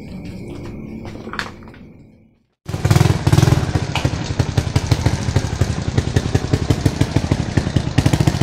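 A motorcycle engine starts up after a brief hush and runs close by with a loud, steady, clattering putter. Softer background noises come first.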